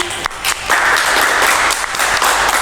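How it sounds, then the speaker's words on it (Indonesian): Applause in a podcast studio, a brief, loud burst of clapping that runs continuously with a dense, close texture. "Yeay, tepuk tangan."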